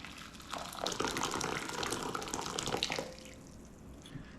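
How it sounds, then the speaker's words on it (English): Water pours into a bowl over dried chanterelle mushrooms, a close, steady gushing splash lasting a few seconds before it tapers off, with no talking. "I'm just going to pour those into a bowl with 4 cups of water and just let those rehydrate"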